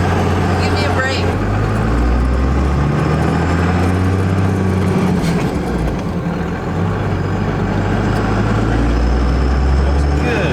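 A 5-speed Cummins diesel dually truck drives and shifts gears, its loud, close engine drone holding steady with dips and rises in pitch as the gears change, while people talk over it.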